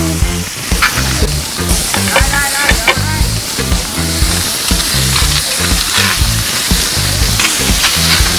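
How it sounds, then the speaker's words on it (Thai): Shrimp stir-frying over a very high flame in a pan: a loud, continuous sizzle and hiss with rhythmic scraping and tossing from the spatula throughout, close up, with no speech. "ผัดไปเลยค่ะนี่แบบนี้เลย ไฟแรงมาก"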